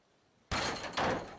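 A door is kicked down in a played video: after near silence, a sudden loud bang bursts in, followed by a second heavy impact about half a second later, both ringing out briefly.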